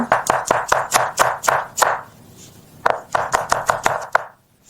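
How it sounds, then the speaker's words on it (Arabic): A knife chops onion and garlic on a board in rapid, evenly spaced strikes, close and crisp, in two bursts split by a brief pause. "نفرم شويه ثوم."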